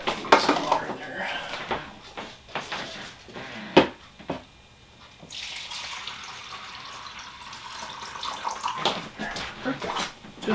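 Water pours and splashes into a container amid clattering dishes and bangs, with a person talking over the running water.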